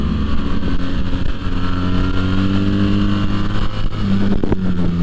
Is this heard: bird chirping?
no